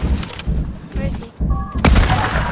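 Shotgun blasts in a multiplayer shooter video game sound as loud booming shots amid game noise, with players talking excitedly over the action.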